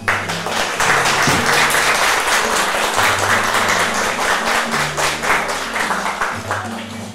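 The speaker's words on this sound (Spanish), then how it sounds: "así que les brindamos un fuerte aplauso." Loud, dense audience applause at a tribute ceremony honouring a retired professor, steady clapping filling the whole stretch with no pause and no voices over it.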